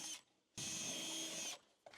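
A power drill bores through the corners of marked holes in one sustained whine of about a second, close and steady, with a short burst of drilling just before and another starting at the end, no talking.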